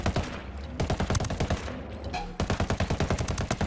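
MK 16 or MK 17 rifle fire in Ghost Recon Wildlands at close range, loud rapid bursts of crisp repeated shots broken by a short pause, then another quick string of shots.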